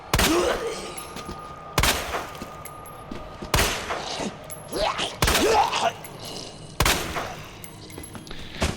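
Gunfire in the survival-horror game Resident Evil 2: about six loud, sharp shots at irregular intervals, each with a short reverberant tail, mixed with faint groaning voice sounds.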